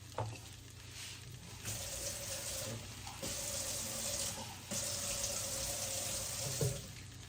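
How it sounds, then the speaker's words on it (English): Water poured from a measuring cup into a hot pan of seasoned tofu cooking for vegan meal prep, a steady splashing pour in a few bursts over a background sizzle, close and fairly loud with no talk. "I'm just putting a 1/4 cup of water in here."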